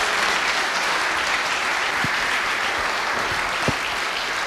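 An audience applauding at a festival in Avezzano, Italy, as a guest is welcomed on stage: dense, steady clapping from a crowd, sustained and fairly loud, with a few sharper individual claps standing out.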